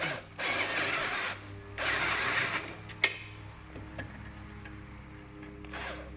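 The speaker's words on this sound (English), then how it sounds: "I'm just going to tighten it up" Ratchet wrench tightening a swivel mount on a Polaris RZR XP Pro, two long bursts of rapid close clicking followed by a few quieter isolated clicks and taps, with no talking.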